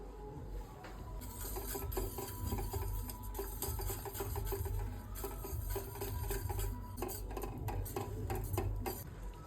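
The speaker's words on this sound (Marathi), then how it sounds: "हे मिश्रण पाण्यामध्ये आपण मिक्स करून हटून घेऊया" A spoon scrapes and clatters against a metal pot as a chickpea-leaf vegetable mixture with water and salt is stirred, with repeated rhythmic scraping throughout and no talking.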